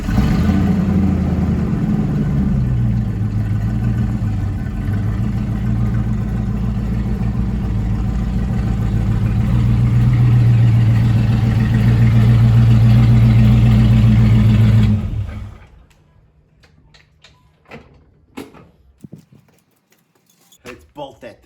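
V8 truck engine fitted with a new budget exhaust, a loud deep rumble that rises and falls as it revs for about fifteen seconds before cutting off, leaving quiet with a few small knocks.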